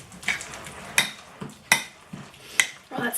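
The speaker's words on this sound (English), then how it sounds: "I'm going to give it a good mix." Guacamole with jalapeno gets stirred in a bowl: several sharp utensil clacks and scrapes against the bowl at irregular intervals, close and clear, with no talking.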